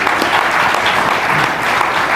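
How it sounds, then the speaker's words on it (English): A conference audience gives a panel of analysts a sustained round of applause, dense, even clapping from many hands filling the room without a break. "let's give them a round of applause"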